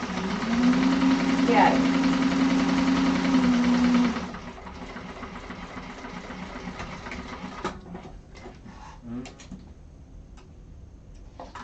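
A sewing machine runs a chain stitch along a satchel seam, with a loud, steady rapid whirring for about four seconds, then quieter uneven ticking and clicks as the machine slows, with a person speaking briefly.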